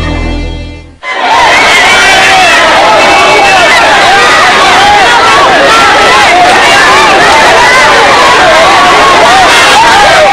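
A large crowd of flood evacuees at an evacuation center shouts and jostles, a loud, continuous, chaotic mass of overlapping voices that starts suddenly after a brief tonal sound and holds steady to the end.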